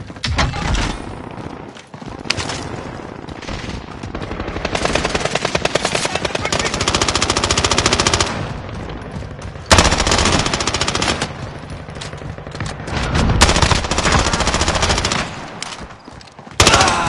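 Sustained bursts of automatic machine gun fire in a PS4 first-person shooter, loud and rapid, broken by short pauses across the stretch, with faint game noise underneath.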